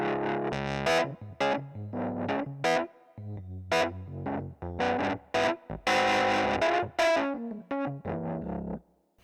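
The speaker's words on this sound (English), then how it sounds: "Gonna turn that up and really get some grit in the sound." Nord Piano 6 stage piano played through a small amp model turned up for grit: distorted, crunchy chords and runs in a busy, rhythmic phrase, loud and close with no talking.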